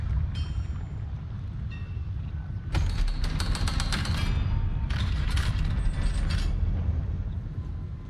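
Mining machinery grinds and creaks inside a mine in Hogwarts Legacy, with rapid clattering, ratchet-like bursts in two separate stretches over a low rumbling background and no talking.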